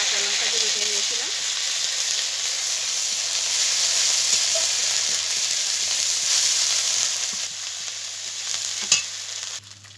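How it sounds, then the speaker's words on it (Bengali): A ground paste of ginger and green chili fries in hot oil with whole cumin, giving a loud, continuous, close sizzle that eases slightly near the end, with a few stirring knocks. "এখন ওই বাটা মশলাটা দিয়ে দেবো,"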